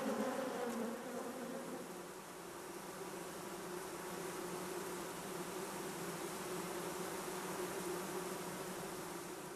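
Honeybees in a busy colony inside a hive make a dense, continuous buzz, steady and fairly faint, with no voices.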